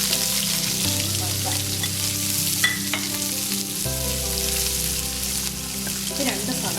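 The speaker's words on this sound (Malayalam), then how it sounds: "ഇനി ഇതിലേക്ക് നമ്മൾക്ക് വേറെ സവാള വറക്കണം." Onions frying and being stirred in a pan for vegetable fried rice, with steady close sizzling and occasional scraping of a utensil, loud and continuous without speech.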